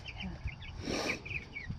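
Chicks clucking softly and briefly, a few short close calls over a faint background.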